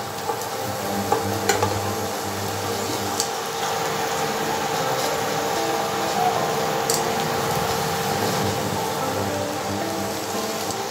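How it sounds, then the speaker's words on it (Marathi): Chopped spinach stir-fried with spices in a pan for palak paneer bhurji, a steady close sizzle and scraping stir running throughout with no voices. "चिरलेला पालक घालून आपण छान परतून घेऊया."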